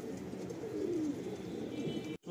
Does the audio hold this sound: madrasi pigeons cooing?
yes